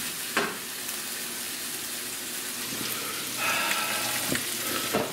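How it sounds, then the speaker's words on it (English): Meat browns in a pan with a steady, close frying sizzle throughout, broken by a few sharp clicks and scrapes of stirring, the hiss swelling a little louder near the end. "I'm browning some meat"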